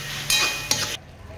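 Spatula stirring ginger-garlic paste in a sizzling pan for spicy chicken rassa, two quick scraping strokes over a steady frying hiss, close and fairly loud, cutting off abruptly near the end.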